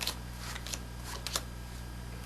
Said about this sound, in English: Let's see you do that shuffling action again